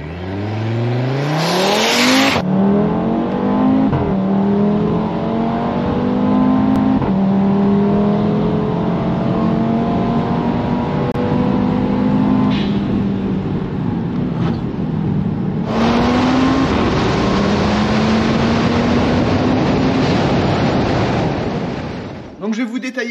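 An Audi TT-RS Stage 3 with the five-cylinder turbo engine accelerates hard through several gears, a loud, close rising snarl broken by quick shifts, then a final strong pull before lifting off.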